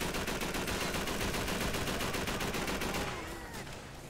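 Sustained rapid automatic fire from an MP40 submachine gun in Call of Duty 3, dense continuous bursts at close range that keep going for several seconds and then taper off toward the end.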